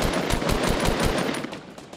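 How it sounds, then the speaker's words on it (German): Rapid bursts of automatic gunfire from a Fortnite firefight, dense and loud with repeated rattling shots that keep going for the whole stretch and thin out slightly toward the end. "Rechts von oben werden wir auch noch beschossen"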